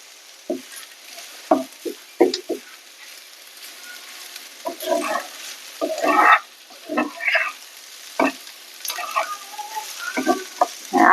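Chopped ash gourd fries in a pan as a spatula stirs it, with irregular scraping strokes and soft bursts of sizzle over a low, steady background hiss.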